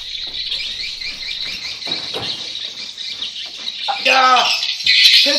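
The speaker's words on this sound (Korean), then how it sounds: "새소리가 한 수천 마리 새소리가 들립니다." Dense chorus of thousands of birds chirping and squawking inside a bird house in Borneo, a constant high twittering that swells louder near the end, with faint voices beneath.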